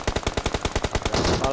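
Rapid automatic gunfire in a shooting video game: a fast, evenly spaced burst of about a dozen sharp shots, close and loud, then a smeared rattle as the burst ends.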